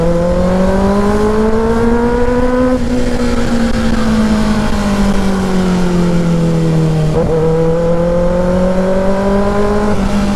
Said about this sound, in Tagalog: Ingay talaga ng motor na to.